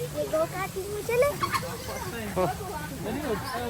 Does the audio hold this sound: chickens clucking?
yes